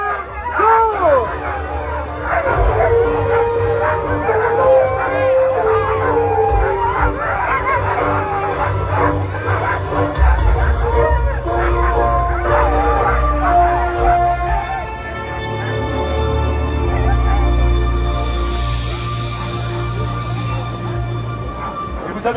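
Sled dogs at the start of a stage race in Megève bark and yelp excitedly and continuously amid crowd noise, with a commentator talking over the clamour.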